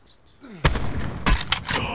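Long-range sniper rifle fire in an online shooter game, with a sharp report followed by a burst of several more shots and crackling impacts, loud and close over faint background game sound.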